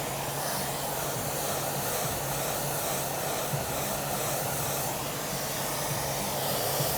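A hair dryer blows on curly hair in a continuous, even, close-up rushing hiss with a low motor hum underneath and no break in the airflow.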